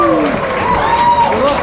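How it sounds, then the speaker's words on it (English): A restaurant crowd claps for diners taking on a 72-ounce steak challenge at a Route 66 steakhouse, with loud, close applause mixed with whooping voices and cheers. "Let's give them a big round of applause."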